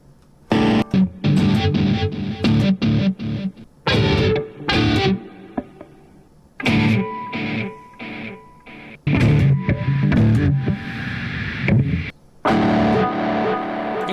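Electric guitar played through a Spark amp app preset with an echo effect, a distorted tone; bursts of chords and riffs with trailing repeats and short gaps, loud and up close, no talk.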